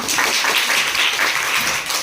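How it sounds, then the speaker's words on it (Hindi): Burst of applause from students at a school science quiz competition, dense, even clapping that holds steady and then tapers slightly at the end. "एक बार ताली बजा दो इसके लिए।"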